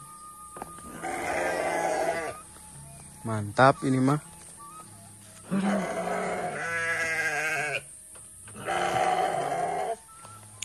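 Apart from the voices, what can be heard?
sheep bleating in a sheep pen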